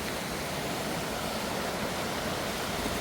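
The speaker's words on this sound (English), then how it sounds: "Here's another little waterfall." Small waterfall in Sapadere Canyon pours in a steady, dense broadband rush of falling water, constant and close with no pauses, no voices heard.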